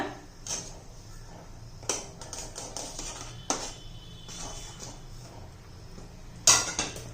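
Rice flour stirred into boiling water in a metal pot, with repeated sharp scraping and clinking strokes of a spoon against the pot over a low bubbling background, close, no talking.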